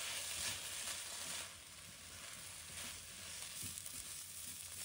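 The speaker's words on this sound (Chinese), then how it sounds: "充分翻炒，让每粒米都裹匀酱汁" Rice with mustard greens is stir-fried with light and dark soy sauce, oyster sauce and pepper, giving a soft, steady sizzle with faint scraping as it is tossed, quiet and without talk.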